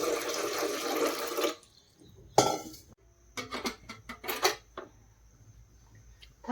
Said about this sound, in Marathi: पाणी टाकायले.